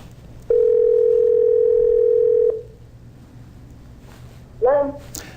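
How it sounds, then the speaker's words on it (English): Telephone ringback tone heard while calling a house seller: one loud, steady electronic tone lasting about two seconds, then quiet, with a brief voice at the end. "we're going to see if I can get her on the phone"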